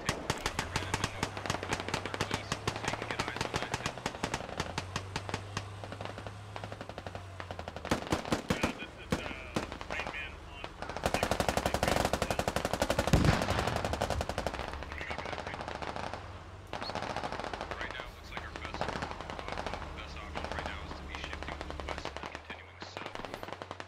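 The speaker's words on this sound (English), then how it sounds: "He's running out of ammo at the rate he's firing." Sustained bursts of automatic machine gun fire in the military shooter game Squad, loud and rapid with repeated strings of shots, short pauses between bursts and a denser barrage midway, with faint voices in the background.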